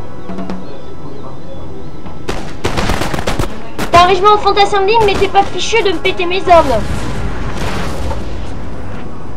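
Cannon and musket fire crackles through a Napoleonic battle in Napoleon: Total War near Coimbra, with dense volleys and booms spread across the scene. Someone speaks over the gunfire.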